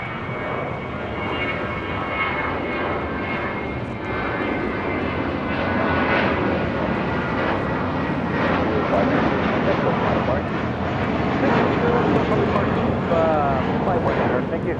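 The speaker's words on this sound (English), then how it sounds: "This is Viva Aerobus Flight 519 taking off to Guadalajara on an A321." Viva Aerobus Airbus A321 taking off at LAX on a flight to Guadalajara, a sustained powerful jet engine roar building gradually, with voices talking over it.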